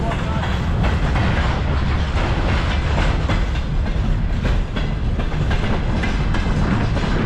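Freight train rolling through a rail yard, a steady loud rumble of wheels and cars with continuous clickety-clack filling the whole stretch, close by and unbroken.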